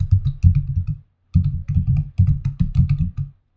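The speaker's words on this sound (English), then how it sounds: "Let's start typing in the form." Fingers type on a computer keyboard while filling in a web form, producing two runs of quick, close keystroke clicks separated by a short pause.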